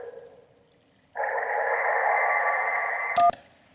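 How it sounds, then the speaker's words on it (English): A phone ringing underwater, a sound effect from the video game Kentucky Route Zero, comes as one muffled, warbling electronic tone that holds for about two seconds before a brief crackling cutoff, alone against near silence. "That was a phone ringing underwater."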